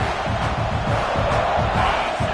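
Stadium crowd in College Football 25 video game roaring in a dense, continuous wash of cheering and shouting, loud and steady throughout.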